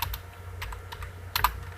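Fingers tap quickly on a computer keyboard while text is entered for a school webpage, a close, steady patter of light key clicks with a couple of louder strikes near the end.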